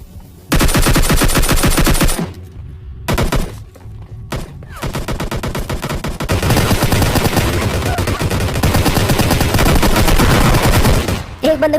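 In the video game PUBG Lite, AK and M4 rifles fire in long, loud automatic bursts broken by brief pauses, with rapid rattling shots crowding most of the span.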